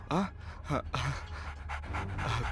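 A dog pants in quick, close, breathy bursts, with a short whimper-like tone near the start and a voice murmuring underneath.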